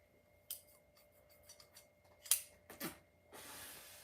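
A few crisp snipping and scraping sounds of freshly sharpened Japanese shears cutting, irregular and close, in an otherwise quiet room.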